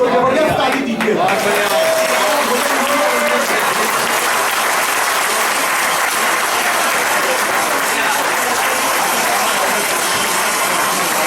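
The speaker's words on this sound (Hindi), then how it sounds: "अगर आप लोग को खाना पसंद आया हो तो जबरदस्त ताली दीजिएगा।" Loud, enthusiastic applause from an audience at an alumni mega meet, a dense, even roar of clapping that carries on unbroken throughout.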